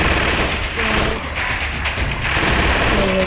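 Gunfire in a zombie shooter video game, a dense continuous burst of rapid shots and booms filling the whole stretch, loud and close with no pauses.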